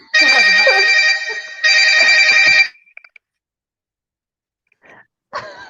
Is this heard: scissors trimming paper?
no